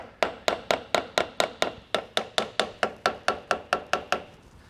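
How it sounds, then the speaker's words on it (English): Fifteen or so light, evenly spaced taps of a hammer on a metal locking hub, ringing briefly with a steady rhythm before trailing off. "So that's where that hammer is going to come into play."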